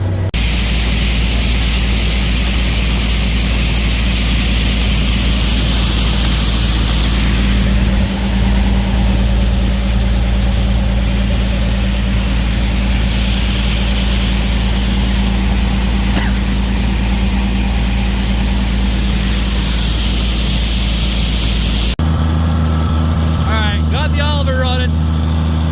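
An engine on farm harvest equipment, running again after a stuck carburetor float was freed, idles with a loud, steady low drone and broadband noise throughout, then cuts off abruptly near the end.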